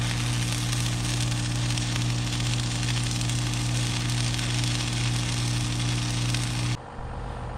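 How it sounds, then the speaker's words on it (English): Welding a hook onto a homemade steel log arch, heard as a continuous loud crackling, sizzling buzz with a steady hum underneath that holds for several seconds, then cuts off abruptly into quieter background noise. "my dad's welding a hook on the log arch there right now"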